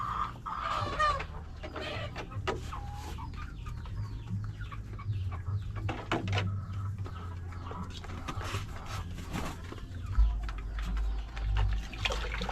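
Decal Brown laying hens cluck and murmur in a coop, several birds overlapping in a steady, close chorus with occasional louder calls, alongside low background rumble and no talk.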